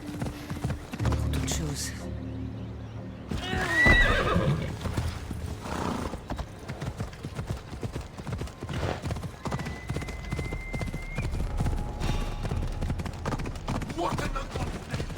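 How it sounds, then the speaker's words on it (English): A horse in Assassin's Creed Odyssey clip-clops with rhythmic hoofbeats and gives a couple of neighs and whinnies, while someone talks over the game sounds. "I need to take this horse either to Adonis or to the stable boy."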